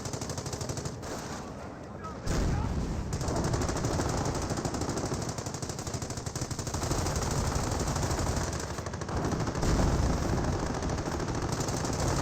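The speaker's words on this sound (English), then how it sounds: "The machine gun nest will likely go down." Machine gun nest firing continuously in Company of Heroes, sustained rattling bursts of gunfire with other battle noise throughout, loud and dense.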